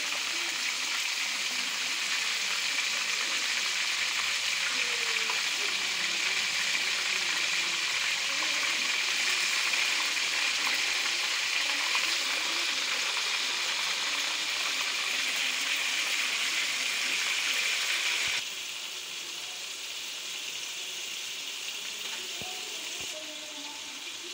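A steady, loud sizzle of frying oil fills the whole stretch, a dense hiss that eases slightly near the end.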